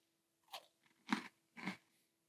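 Loaded Krave-style cereal is eaten dry, giving three distinct close crunching bites spaced about half a second apart in an otherwise quiet setting.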